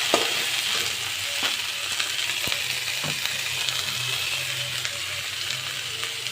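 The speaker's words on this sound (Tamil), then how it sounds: "வெங்காயம் நல்லா வதங்கிடுச்சு" Onions sauté in a pan for a Tamil chicken curry, a continuous close sizzle with spatula scrapes and occasional metallic taps against the pan.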